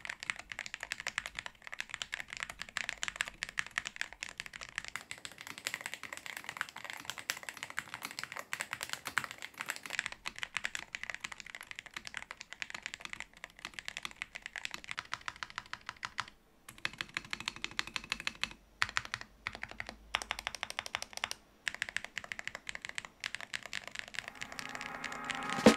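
Typing on a magnetic Hall effect switch mechanical keyboard: a steady, continuous stream of close, fairly quiet clacking keystrokes with a few brief pauses, no talking.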